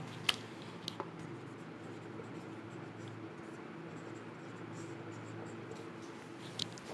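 Chalk or marker scratching faintly across a classroom board as a teacher writes a physics term about a concave mirror, a few light strokes over a steady room hiss.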